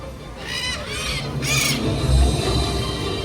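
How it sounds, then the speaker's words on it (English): Harsh, repeated squawks from macaws taking flight at Animal Kingdom over a noisy, rumbling background, several calls overlapping at moderate distance. "it does sound like these birds are ready to take off"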